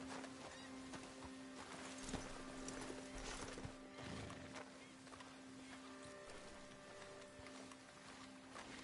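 Horse hooves clopping steadily over ambient outdoor noise with faint background sounds, moderately distant and quiet, in the video game Red Dead Redemption 2.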